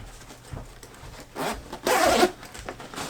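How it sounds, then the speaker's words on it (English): Front zipper of a First Lite Transfer hunting pack being pulled open in a couple of short rasping strokes, the longest and loudest near the end, close and clear with no talking. "you can actually zip the front down"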